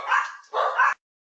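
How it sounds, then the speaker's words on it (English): Two small dogs bark in quick bursts indoors, one yappy cluster followed by a second louder one, close to the microphone, then they fall silent. "we have a couple of small dogs who like to join in from time to time"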